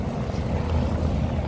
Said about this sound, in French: Je suis désolée pour le vent.